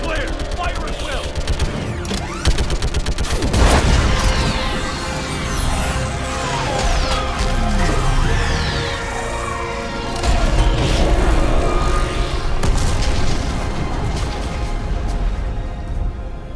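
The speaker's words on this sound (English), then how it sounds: "I need an orbital strike." Orbital strike explosions in the sci-fi video game Mass Effect 3, heavy booming blasts and crashing impacts layered with mechanical clatter and rumbling, continuous and loud over several seconds.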